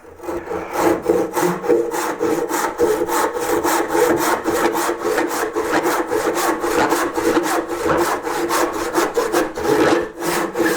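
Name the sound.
carving wood with a saw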